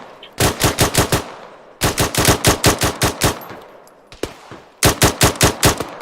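Automatic gunfire in a military-themed video game, played as a squad training session: three loud bursts of rapid, evenly spaced shots with a few scattered single shots between them, and no talking.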